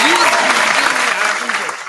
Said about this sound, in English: Let's applause for the whippage.